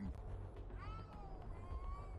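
A cat meowing in an anime episode, one drawn-out rising then falling meow over low background noise, faint and somewhat distant.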